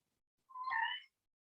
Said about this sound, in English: And my pretty cat come to join the yoga.